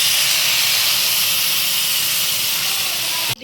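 Water poured into a pot of Bengali-style khichuri sets off a loud, continuous steamy hiss that cuts off abruptly at the end.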